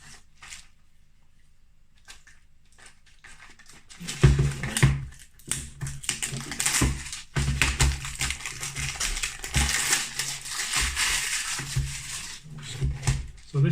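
Cellophane wrapping being peeled and crinkled off a plastic crimper case for a ferrule ratchet crimper, a near, busy run of crackling and rustling after a few seconds of quiet handling, with no talk.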